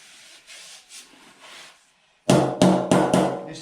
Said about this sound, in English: I'm going to start tapping.